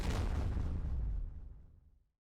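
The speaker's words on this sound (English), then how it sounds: "Suddenly a sound of an explosion burst from the room behind me." An explosion sound effect erupts at once as a loud, broad boom with a heavy low rumble, then decays and trails away over about two seconds. No voices are heard.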